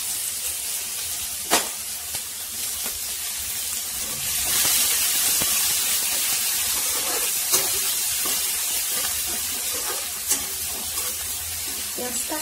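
Chopped onion and garlic hit hot oil tempered with asafoetida, giving a continuous bright sizzle and hiss with occasional sharp crackles and pops over about twelve seconds.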